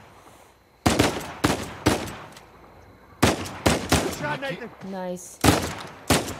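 Gunfire in the video game Uncharted 4: several sharp bursts of shots break out amid loud, excited talk from players reacting over the action.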